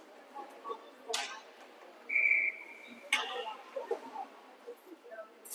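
A referee's whistle gives a single short, thin blast at a youth bantam ice hockey game, heard at a distance over a quiet rink murmur with scattered thuds and faint voices.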